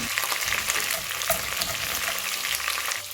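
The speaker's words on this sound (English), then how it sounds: "the lamb is starting to brown very nicely" Lamb browning in a hot pan, a loud dense sizzle that stays constant and close, with light crackles throughout.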